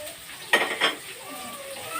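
Finely chopped onion dropped into hot oil for a prawn curry, a short burst of clattering and sizzle followed by a soft steady frying hiss.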